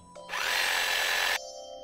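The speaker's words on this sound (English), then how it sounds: "drilling behind my poster, guys, so the security guard doesn't know I'm doing it" A power drill whirs through a wall in the mobile game Prison Break, a single steady electronic buzz lasting about a second, starting and cutting off sharply amid quiet game tones.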